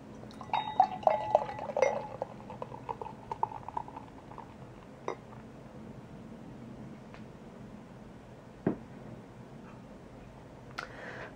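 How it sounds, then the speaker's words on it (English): Brett beer, fermented with a Brettanomyces strain, pours into a glass with faint liquid trickling and a few light glass clinks, fairly quiet against a low background hum, with sharper ticks scattered through. "So let's give these guys a pour."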